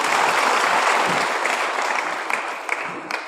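A crowd at a devotional religious discourse gives dense, sustained applause that starts full and loud and slowly thins, with a few scattered claps toward the end.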